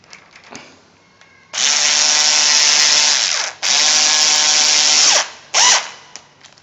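A power drill-driver tightens the screw holding a replacement Arcu STS / Kaba lock cylinder in a door, running in two steady whirring bursts of about two seconds each and then a brief final spurt, loud and close, with no talk.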